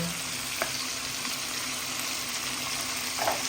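Chicken and cabbage sauté in a hot pan with a steady sizzle, while a utensil stirs and scrapes through the food in a couple of soft strokes; no voices.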